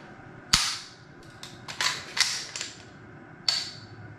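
Sig MPX rifle trigger pulled and reset several times, giving sharp close metallic clicks in an irregular sequence, a few louder snaps among softer ones, against a quiet background.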